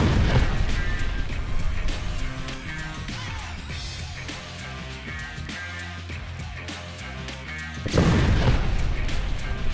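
Mini pyrotechnic charges firing in a staged effects test, a sharp blast followed by crackling bursts and a second loud burst near the end, close and loud.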